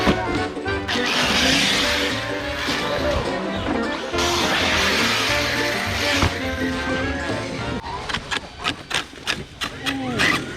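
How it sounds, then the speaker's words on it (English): A Kraton EXB RC car drives hard, its motor whining and revving, with crashing impacts and then a series of sharp clacks as the front differential breaks; people talk nearby. "So the Kraton's down with a broken front diff."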